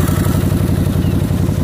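Motorcycle engine idling steadily just after its carburetors were synchronized, a close, even, throbbing pulse with no voices over it.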